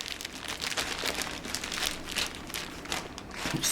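Bag of Christmas cards crinkled and rustled while handled and opened, a steady close papery crumpling with scattered crisp crackles throughout.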